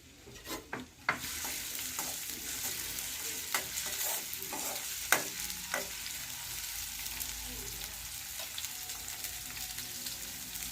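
Chopped onion and bay leaf sautéing in oil in a kadai, a steady close frying sizzle with a few sharp spatula scrapes and clinks early on, for a broccoli gravy.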